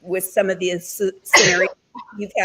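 A single sharp, breathy sneeze bursts out briefly between stretches of conversational speech from people talking in a recorded discussion.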